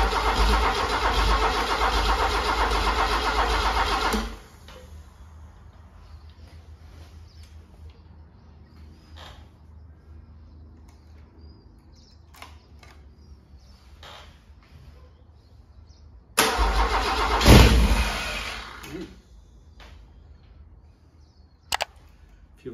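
A Holden 161 red motor, left sitting for over twenty years, cranks loudly on the starter for about four seconds, then stays quiet with faint knocks before a second hard cranking burst that briefly catches and fades, followed by scattered clicks.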